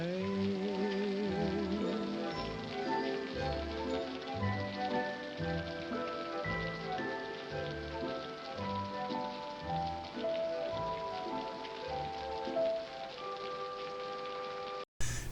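Steady rain falls in a 1952 film musical street scene, a continuous hiss of drops under prominent orchestral music that plays throughout, with no voices.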